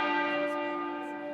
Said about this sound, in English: Westminster Abbey's tenor bell chiming once a minute for 96 minutes